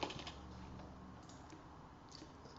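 Typing on a computer keyboard while writing code, heard as faint, scattered key clicks at a low level throughout.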